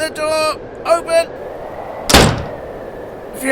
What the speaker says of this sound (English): I can't get the door open.